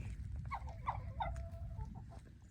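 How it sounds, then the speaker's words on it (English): A few short, throaty clucks and one drawn-out squawk from Java chickens nearby, with a low background hum. "These are modeled Java chickens, apparently."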